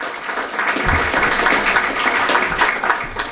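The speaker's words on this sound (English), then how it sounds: "Let's give them a hearty round of applause." Applause from a crowd at a Hall of Fame breakfast ceremony in 2021 swells after a brief quiet start into sustained, fairly loud clapping that fills the room, with no speech over it.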